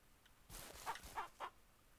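A chicken in Ranch Simulator gives a short run of about four quick clucks, faint and close, over quiet background.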